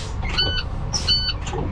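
Fire tender truck's air brake low-pressure warning beeps as the pedal is pumped down to around 70 psi during a truck check: short, bright electronic beeps in two bursts over a low idling rumble, with faint voice nearby.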